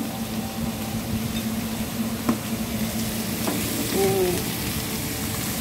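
Soybean sprouts and bitter melon sizzle in a frying pan, a steady close crackle with a low hum and a few clinks and stirring sounds.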